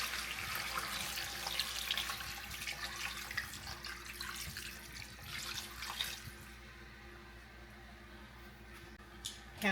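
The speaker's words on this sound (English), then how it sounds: "Okay, so now I'm going to add some water." Water running into a pot of Haitian legume vegetable stew, a continuous splashing tap-like pour that holds for several seconds and then tapers off, close and moderately loud with no talk.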